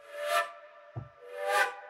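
Two sustained synthetic flute notes from a Lucent plugin's dynamic patch, each swelling up with a breathy attack and fading, separated by a short gap with a faint low thump.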